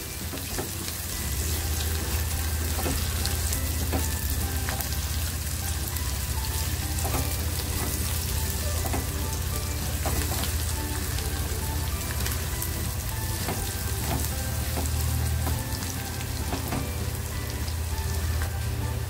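Chopped onion frying in a pan for egg masala until it turns reddish, giving a dense, steady sizzle and crackle that runs unbroken at close range, with no talking.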